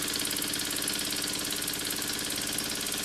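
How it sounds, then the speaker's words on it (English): A single-cylinder vertical CK model engine runs at an even pace, its rapid regular beat steady and close for the few seconds heard, with no voices over it. "This is a single cylinder version of a vertical CK engine."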